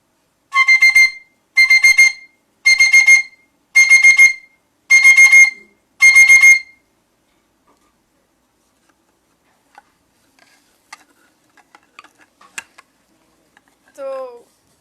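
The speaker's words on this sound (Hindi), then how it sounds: "सुबह सुबह जब भी उठते हैं हम तो अलार्म बजता है" Alarm clock ringing loudly and close in six evenly spaced bursts of rapid electronic beeping, followed by quiet with scattered faint clicks and a short chirp near the end.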